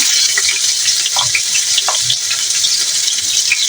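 Onion paste hits hot oil and fries, giving a loud, continuous sizzling hiss up close with occasional soft stirring knocks beneath it.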